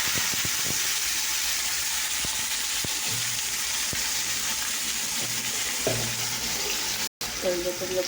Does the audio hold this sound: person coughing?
no